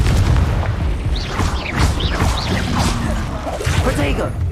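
Confringo fire spell explosions in the Hogwarts Legacy video game, repeated booming blasts and crackling bursts over a dense, loud stream of combat effects with whooshing spell sounds throughout.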